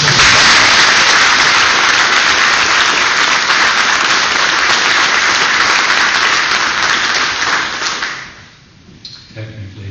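Sustained applause fills a congressional committee hearing room, dense and loud for about eight seconds before tapering off, with faint voices and small room noises after it fades.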